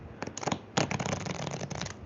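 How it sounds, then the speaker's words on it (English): Playing cards riffle together in a quick blackjack shuffle: a couple of short flutters, then a longer crisp riffle, close and fairly quiet. "Then I'm going to do another shuffle."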